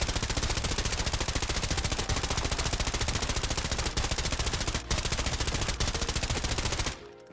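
Rapid, sustained automatic fire from the 995 rifle in the shooter game Arena Breakout: Infinite, loud and close, a dense unbroken stream of shots for about seven seconds before it abruptly stops.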